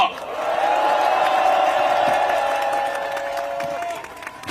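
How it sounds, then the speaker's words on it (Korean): Applause and cheering from a crowd at an emergency political rally, sustained and loud for about four seconds, then fading near the end. "힘내시라고 다시 한번 큰 박수 부탁드립니다"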